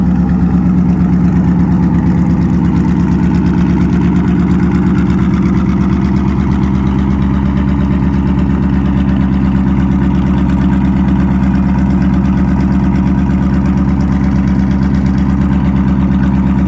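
A 1956 Mercury Montclair engine idles fast and steady for the whole stretch, a loud, even, close-up rumble with no voices over it.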